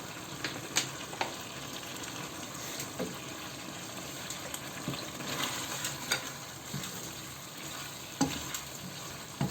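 Beef chilli frying in a pan as egg white is added, a steady sizzle with scraping stir strokes and occasional louder clatters, no talking.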